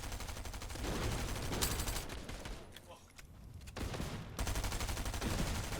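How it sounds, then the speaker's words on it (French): Rapid gunfire in a Fortnite-style solo battle royale match, repeated bursts and dense volleys of shots that fade and return, close and loud, with players talking over it. "Il nous a tiré dessus."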